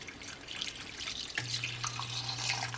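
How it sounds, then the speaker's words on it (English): Two cups of water are poured into a soup pot on a home electric stove. A steady, close liquid stream starts partway through over a quiet kitchen background. "I'm gonna also add 2 cups of water."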